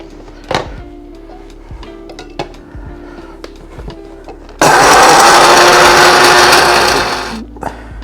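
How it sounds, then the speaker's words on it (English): An electric grinder blends dry spices for chicken yakhni soup, starting with a loud, dense whirring burst of about three seconds after scattered handling clicks and taps, then winding down. "So for now, let's blend our dry spices."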